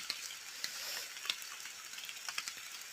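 Dry soil sprinkled by hand over sown coffee seeds gives a faint, granular patter and rustle with scattered small ticks, close but quiet and without any talking.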